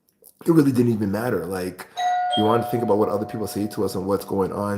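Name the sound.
doorbell ringing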